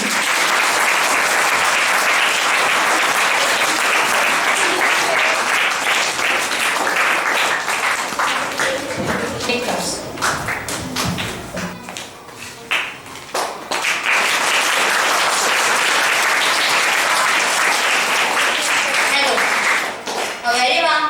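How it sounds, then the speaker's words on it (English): Sustained audience applause at a school speech event honouring a student, dense and loud throughout, briefly thinning near the middle before swelling again, with a voice emerging faintly over it. "Please round of applause for this student"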